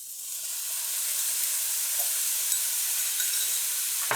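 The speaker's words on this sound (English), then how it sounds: "So now I'm adding the dressing" Steady, loud hissing sizzle as dressing hits a hot pan of charred Brussels sprouts, continuous and close throughout with no talk.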